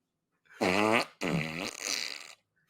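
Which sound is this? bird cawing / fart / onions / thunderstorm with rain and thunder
fart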